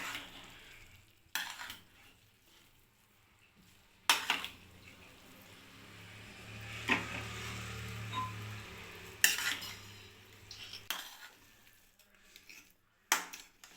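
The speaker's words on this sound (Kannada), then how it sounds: "ಕುಕ್ಕರು ಮುಚ್ಚಳ ಓಪನ್ ಮಾಡ್ಕೊತಾ ಇದ್ದೀನಿ." A pressure cooker lid is opened after cooking vegetable pulao to one whistle. Quiet, scattered metallic clanks and clicks of the lid and vessel rise over a soft hiss between sparse sharp knocks.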